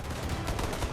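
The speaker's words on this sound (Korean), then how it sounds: "그리고 군중이 여전히 단호하게 버티자 총성이 울렸다." Gunfire as troops fire on protesters during the 1989 Tiananmen Square crackdown in Beijing: a dense, loud burst of rapid shots lasting about a second.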